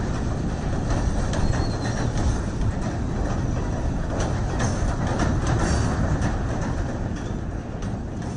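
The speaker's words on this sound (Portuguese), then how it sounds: "O trem tá parando." A freight train carrying migrants rolls along the rails with a loud, steady rumble, dense clatter and scattered metallic clicks throughout, and no voices.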